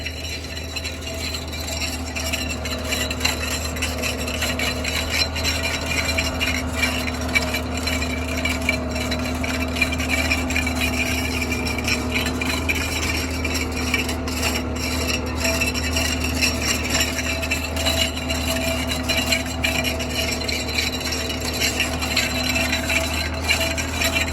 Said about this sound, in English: hydraulic kicked in, and now we're spooling it up